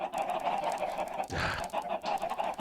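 Chickens cluck and squawk in a Minecraft game, with several quick fowl calls layered close together and fairly quiet.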